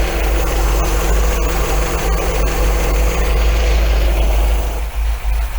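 An MGB's engine idling steadily during carburetor and timing tuning, a loud, even low rumble that holds throughout and dips briefly near the end.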